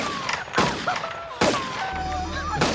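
Gunshot sound effects from an episode of Baywatch season 3, heard as three sharp, loud bangs spaced about a second apart, with faint voice-like tones running between them.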